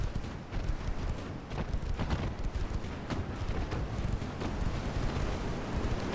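Torpedo explosions in the naval combat game Ultimate Admiral Dreadnoughts: dense, continuous rumbling blasts with repeated sharp booms, a loud sustained barrage without voices.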